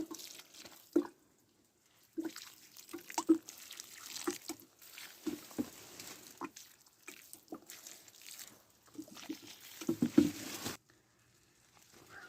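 Water is poured onto garden soil after cucumber seeds are sown outdoors, a soft patter and dripping in uneven bursts, faint and close with short pauses.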